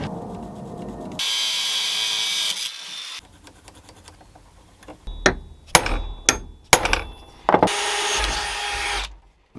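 Flat iron being hammered into a mounting bracket without an anvil, a cluster of sharp metallic hammer strikes in the middle, close and loud, between bursts of grinding noise.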